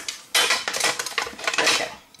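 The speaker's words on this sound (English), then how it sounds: "I'm going to get out my big deep flat pan and my wooden pokey sticks." Metal and wooden kitchenware clatter as a big deep flat pan and wooden spoons are pulled out, a busy run of close clanks and knocks lasting about two seconds.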